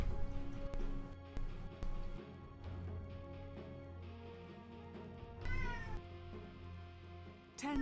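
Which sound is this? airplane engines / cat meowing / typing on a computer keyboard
cat meowing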